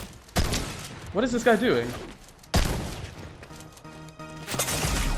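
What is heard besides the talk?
sniper gunshot in video game Fortnite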